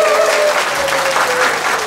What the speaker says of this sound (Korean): 축하한다고 박수 주세요.